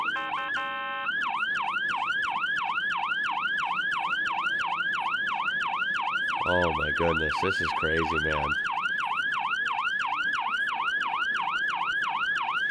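An ambulance siren in a snowy Slovenian traffic jam cycles steadily and loudly throughout, with a brief burst of horn blasts in the middle and a voice exclaiming over it.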